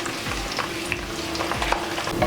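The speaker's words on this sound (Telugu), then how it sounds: "ఇప్పుడు వెల్లుల్లిపాయలు వేసుకుందాం." Garlic frying in hot oil for poha chivda mixture: a loud, continuous close sizzle with crackles, and a few rhythmic stirring scrapes through it.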